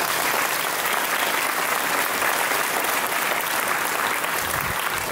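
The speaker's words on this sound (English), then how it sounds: "you should give them a round of applause for that" Sustained, dense applause from a large audience at a business program finale event, an even wash of many hands clapping throughout with no talk over it.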